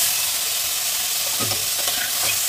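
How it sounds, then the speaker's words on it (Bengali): Mushrooms hit a pan of melted butter for a matar mushroom masala curry, giving a dense, even sizzle with faint stirring scrapes near the end, close and continuous, without any voices. "এবার বাটারটা একটু গলে গেলে এতে আমি মাশরুমগুলো দিয়ে দেবো।"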